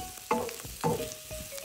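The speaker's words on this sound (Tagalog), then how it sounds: "gisahin lang muna natin to hanggang sa maluto lang yung bawang" Garlic and onions sauté in a hot pan for mussels in tomato, giving a close, steady sizzle with two louder stirring bursts and no talking.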